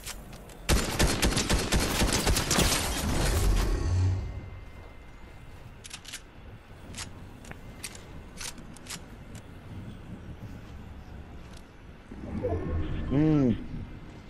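A PlayStation 4 shooter game plays a dense burst of rapid gunfire that lasts about three seconds. Scattered single shots follow, then a final flurry, with people talking at times.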